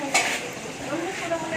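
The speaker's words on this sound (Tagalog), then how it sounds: "kung niluluto na yung chicken curry ni Manang Vikang" Chicken curry stirred and cooked in a pan with garlic and onion already added, a brief near scrape of a utensil against the pan over a steady low sizzle of frying.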